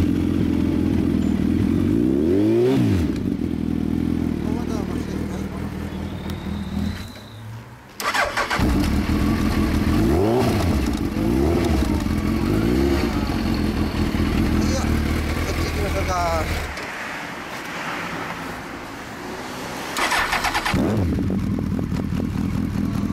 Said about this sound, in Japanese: こっちからエンジン音聞かせてもらいます。